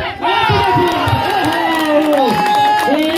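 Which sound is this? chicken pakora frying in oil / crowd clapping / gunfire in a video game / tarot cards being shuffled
crowd clapping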